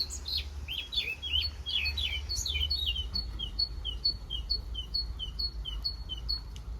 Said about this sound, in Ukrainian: Тут так гарно співають пташечки.